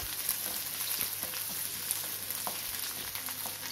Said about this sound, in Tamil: அடுத்து சின்ன வெங்காயம் போட்டுக்கோங்க.